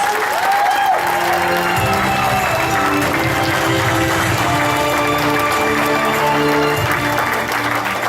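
Audience applause for a speaker at a Diamante Royal event, steady and dense throughout with some crowd noise and faint cheering mixed in.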